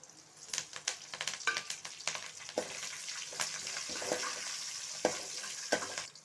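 Curry leaves and slit green chillies sizzle in hot oil for idli upma, a steady bright crackle with sharp spatters and occasional spoon-stirring clinks throughout.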